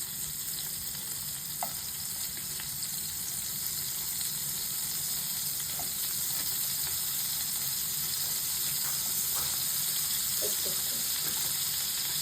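Chicken frying in butter in a pan for a chicken burger gives a steady, close, continuous sizzle, with a few faint clinks of stirring and no talk.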